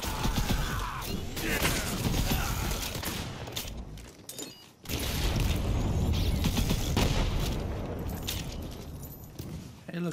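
A shotgun fires repeatedly in Borderlands 3's jungle area, with rough, booming blasts that break off briefly partway through before starting again, and voices talk around the shots.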